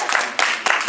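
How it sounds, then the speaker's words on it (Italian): An audience claps for the new Italian national Cardfight!! Vanguard champion. Loud, dense clapping comes in three quick surges within a second. "direi di fare un altro applauso al nostro nuovo campione italiano"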